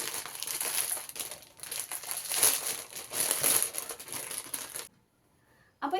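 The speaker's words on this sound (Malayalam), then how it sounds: "നമുക്കിത് അൺബോക്സ് ചെയ്ത് നോക്കി നോക്കാം." Crinkling and crushing of plastic packaging as a Meesho dress parcel is opened, close and continuous for about five seconds, then a near-silent pause before a brief rustle returns.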